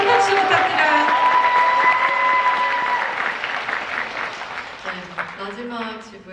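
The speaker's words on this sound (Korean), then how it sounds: "여러분 큰 박수 부탁드려요" An audience packed into a hall at a Busan International Film Festival guest talk for the film Broker applauds loudly, the clapping fading over several seconds while voices begin speaking near the end.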